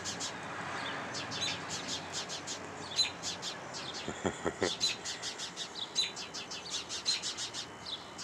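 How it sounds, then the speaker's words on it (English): Many birds calling in agitation on an early morning outdoors, rapid repeated high chirps and tweets in dense clusters, some close and loud, continuing throughout without pause. "got quite a few birds up front here this morning"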